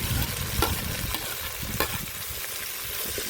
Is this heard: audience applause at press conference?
no